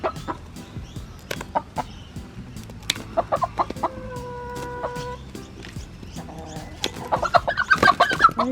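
Chickens cluck and squawk close by in quick, irregular bursts, with a drawn-out call in the middle and flurried clucking at the end.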